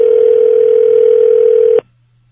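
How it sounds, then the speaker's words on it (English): A steady telephone dial tone sounds loud and close while calling voicemail, holding continuously for under two seconds before cutting off abruptly into near silence. "I'm gonna call Vince's voicemail"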